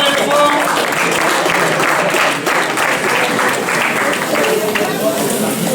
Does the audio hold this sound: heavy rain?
no